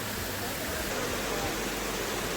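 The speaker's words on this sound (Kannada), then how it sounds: "ಹೊಸದೇವತ ಫಾಲ್ಸ್ ಮಾತ್ರ ಸೂಪರ್ ಆಗಿದೆ." Hosadevata waterfall near Ankola, Karnataka, heard as a steady, dense roar of falling water that fills the short stretch evenly without any break.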